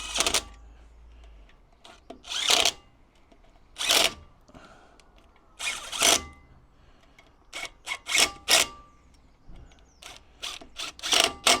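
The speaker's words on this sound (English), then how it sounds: "put in the bolts for the hub, freewheeling hub. E10 Torx bit." A power tool with an E10 Torx bit drives the bolts of a freewheeling hub on a Suzuki Jimny, short loud whirring bursts repeating in several spurts with gaps between them.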